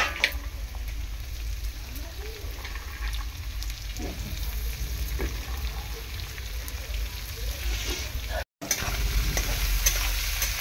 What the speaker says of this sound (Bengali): বিনস আর গাজরটাকে এরকমভাবে ভেজে নেব।